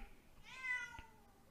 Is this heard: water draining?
no